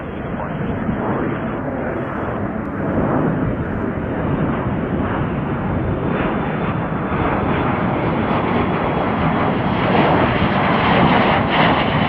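Steady, loud broadband jet engine roar from a United Boeing 787 Dreamliner taxiing at Chicago O'Hare airport, a continuous close rumble holding for the whole stretch with no talk.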